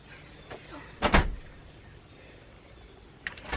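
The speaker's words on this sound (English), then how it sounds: "Somebody's coming out the door right now." A door opens as someone comes out, with a faint click, then a louder rattling thud of the door moving, and a brief knock near the end, all against a quiet background.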